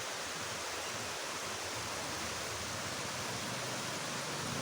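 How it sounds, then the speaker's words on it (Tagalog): Clean mountain river water rushing steadily, a broad continuous roar without pauses, near and fairly loud, with no voices over it. "Malinis yan, galing ng bundok yung ilog na yan."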